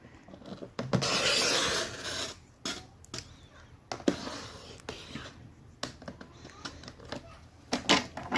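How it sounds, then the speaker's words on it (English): A blade slices along a score line in cardstock in a close, quiet craft setting, giving a sustained rasping cut followed by shorter scraping strokes and light taps as the paper is handled. "I'm just going to line that up, and I'm going to cut the same again."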